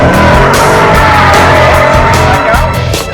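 A sports car does donuts on a track, its tires skidding in a loud, continuous squeal over a roaring engine; no talking.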